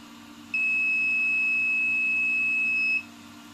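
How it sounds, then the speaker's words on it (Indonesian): A buzzer on a distance sensor project sounds as an alarm when an object comes within 5 cm, giving one steady, unbroken electronic tone that lasts about two and a half seconds before stopping, with no talking. "maka dia itu akan bahaya dan menyalakan kedua LED serta membunyikan buzzer ya"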